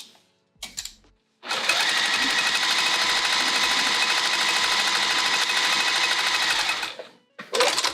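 A sewing machine stitches through vinyl for quilting, starting with a couple of short bursts, then running in one long, fast, steady rattling stretch before a final quick burst, close and loud.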